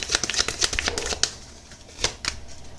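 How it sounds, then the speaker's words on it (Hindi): Tarot cards drawn and shuffled by hand, a run of quick papery flicks and slaps, close and fairly soft, with a brief pause before a few more snaps. "फाइनल कार्ड्स निकाल लेते हैं"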